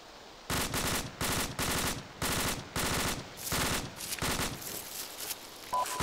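Automatic weapon fire in the video game Arma 2, a sequence of rapid bursts, each a quick run of sharp shots separated by brief pauses, fairly close and loud with no talking over it.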